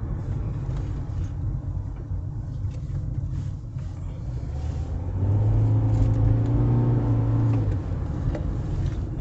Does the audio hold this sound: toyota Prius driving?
yes